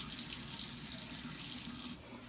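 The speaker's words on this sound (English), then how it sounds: "And then you're gonna go ahead and turn your sink back on. One final rinse." Kitchen sink tap running steadily for a final rinse of collected seashells, a close, even hiss of flowing water that dips slightly near the end, with no voices.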